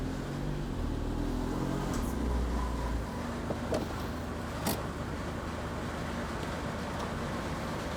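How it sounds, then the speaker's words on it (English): A car idles and rumbles with a rough, droning noise from its rear exhaust, steady and moderately loud throughout, with a few brief clicks and knocks over the top. "There's a terrible sound coming from the rear exhaust."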